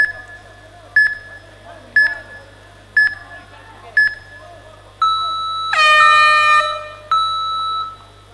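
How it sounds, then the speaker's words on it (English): Match timer at a martial arts championship mat counting down: five sharp beeps a second apart, then a long loud electronic horn blast marking the end of the round, with faint arena murmur underneath. "so you'll hear the timer in the back"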